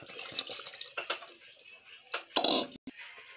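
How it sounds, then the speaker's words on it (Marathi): Water is poured into a pan of homemade chicken curry, a close splashing that comes in uneven bursts with a few clinks of utensils, ending in a louder gush before a brief cutoff. "आता याच्यात आपण भाजीला जेवढा पाणी लागते तेवढं घालून घेऊ"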